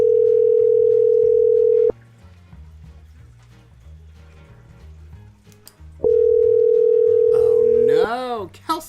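Telephone ringing tone on an outgoing call during a live morning broadcast: two long steady buzzing rings separated by a pause, loud and close, with faint background sounds between them.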